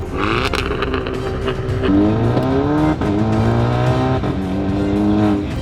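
A Volkswagen Scirocco engine revs hard up close, its pitch climbing and dropping in repeated surges, loud and continuous.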